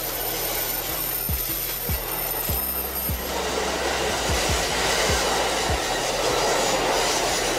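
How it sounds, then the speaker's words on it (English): A diesel train rolls past close by, its steady engine drone and rushing noise overlaid by regular clickety-clack thumps of wheels crossing rail joints. "Diesel train. The independent one. It runs on diesel fuel, doesn't need electric wires, and can go almost anywhere."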